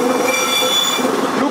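A railway vehicle rolls along track on a DB Netz track-construction site, its wheels giving a sustained, loud, high metallic squeal that holds steady the whole time with no talk over it.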